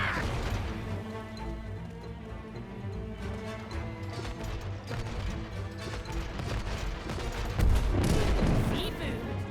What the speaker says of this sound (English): May, I don't like their cannons.